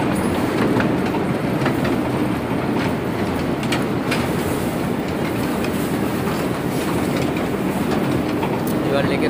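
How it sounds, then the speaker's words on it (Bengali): An electric toy train runs along a lake shore in a garden park, making a steady rolling rumble with faint rhythmic clicking of wheels, continuous and moderately loud, with voices nearby. "লেকের পাড় দিয়ে ঠিক এই টয় ট্রেনটা চলছে"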